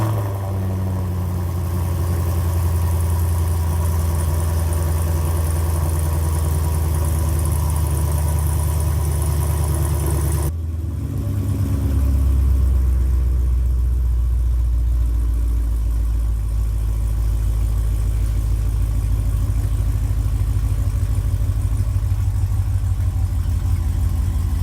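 A 2016 Camaro 2SS V8 with a Hooker Blackheart full exhaust fires up, a brief burst of revs settling into a loud, steady, deep idle rumble close by, with no talking over it.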